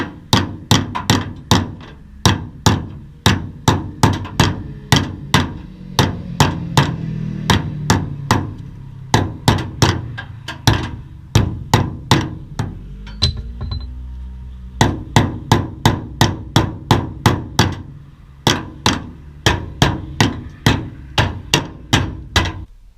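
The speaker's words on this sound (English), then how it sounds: "just with about 10 minutes of hammer and dolly, we've been able to get it kind of close" Metal hammer blows on a dolly ring out in rapid, steady bursts, sharp and close, straightening a crash-damaged truck body panel, with a brief pause midway before the hammering resumes.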